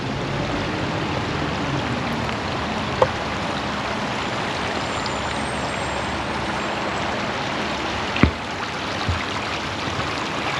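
Creek water flowing steadily past stone walls in the Rail Gap Pocono Creek nature preserve, a constant broadband rush with a couple of faint clicks, no voices.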